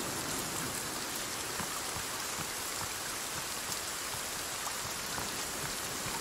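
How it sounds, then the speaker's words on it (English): Rain pours in the Sons of the Forest video game, a steady wash of drops pattering on surfaces with no breaks, moderately loud and continuous. "it's raining and it's very loud."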